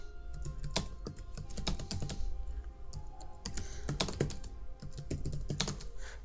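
Keys on a computer keyboard clack at an irregular pace while working in MS Word, with sharp individual taps and quick clusters of presses, fairly close.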